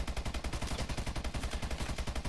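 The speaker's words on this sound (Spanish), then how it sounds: "¡Dispara, dispara, dispara!" Rapid automatic gunfire in the Call of Duty: Advanced Warfare video game, an even stream of loud, closely spaced shots pulsing steadily throughout.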